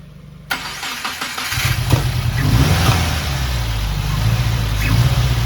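A rebuilt Subaru WRX FA20 engine cranks and fires up after a brief quiet lead-in, then roars loudly with rising revs and a rough, uneven idle.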